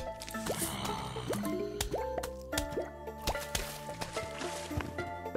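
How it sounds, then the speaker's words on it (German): Watery dripping and plopping effects from the Plants vs. Zombies video game, a run of quick bubbly drips and squishy splashes with rising pitch, fairly quiet and close. "Ich habe Wasser gehört. Zweimal Wasser gehört."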